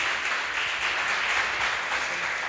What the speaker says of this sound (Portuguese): Dá um aplauso ao Senhor Jesus